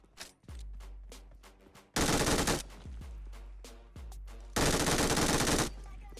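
Video game gunfire rattles in bursts: single sharp shots early on, then two loud sustained automatic volleys, close and punchy, with faint voices underneath.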